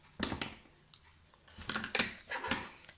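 Scissors snip through card for a handmade 3D framed card, a run of several close, crisp cuts with short pauses between them, faint and alone.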